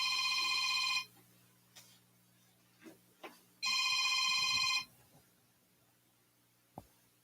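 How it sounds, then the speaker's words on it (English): A phone rings with two loud electronic bursts about a second long, separated by a pause with faint handling clicks, close by in a quiet room. "It's my phone right there."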